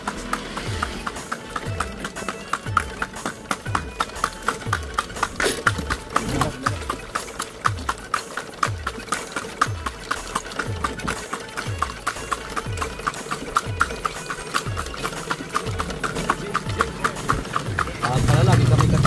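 A horse pulls a kalesa at the Baluarte estate, its hooves clip-clopping in a steady, even rhythm close by with a rolling clatter throughout, while voices murmur in the background.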